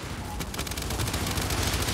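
Dense, sustained gunfire from the Boomshot weapon during a Gears 5 match. It plays as a loud, continuous barrage of overlapping blasts lasting the whole moment, with faint voice chatter underneath.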